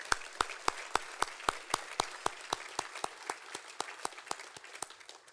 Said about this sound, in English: Let's give all of those sponsors a round of applause.